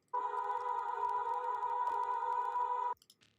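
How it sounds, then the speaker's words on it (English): A sustained synth tone built from a sine-wave sub bass with saturation and EQ shaping, in an electronic track, holds steady for about three seconds at moderate level and then cuts off abruptly. "then sub up here. I think it's just a sine wave. Yeah, with saturation and then a few EQs"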